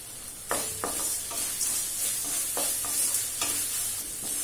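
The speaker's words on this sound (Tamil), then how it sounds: "இப்ப தக்காளி நல்லா வதங்கிடுச்சுங்க." Tomatoes sauté in a hot pan for a hotel-style sambar, a steady close sizzle broken by several soft scraping stirs of a spoon at intervals, with no one speaking.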